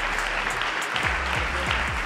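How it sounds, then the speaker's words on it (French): A live audience applauds as Luc comes on stage, dense continuous clapping that stays loud and steady for the whole stretch, with a low rumbling tone running beneath it. "je vous applaudissez Luc."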